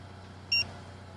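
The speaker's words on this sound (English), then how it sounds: "You heard the beep?" A Bird electric scooter gives a single short, high electronic beep as it is captured for charging. The beep is clear and close over a quiet background hum.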